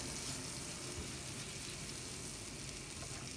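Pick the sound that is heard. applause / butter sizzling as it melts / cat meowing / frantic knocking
butter sizzling as it melts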